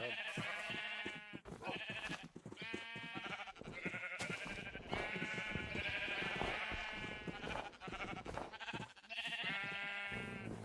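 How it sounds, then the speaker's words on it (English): Sheep in the game Minecraft bleat over and over in a close, steady chorus of overlapping wavering cries, with no talking. "Alright, so I have my sheeps over here."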